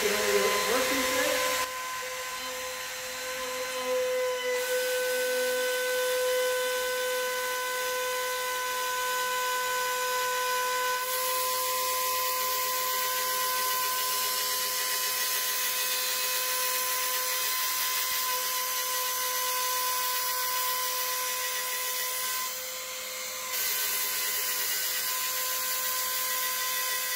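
Electric router rounding over the edge of a wood workpiece, a loud continuous high-pitched whine held for most of the stretch after a brief start, with slight dips in load as it moves along the edge.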